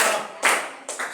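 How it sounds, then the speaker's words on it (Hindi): Hands clapping in a classroom, a few sharp claps heard alone at close range, with brief bursts separated by short pauses. "करतल ध्वनि ऐसे बजाना"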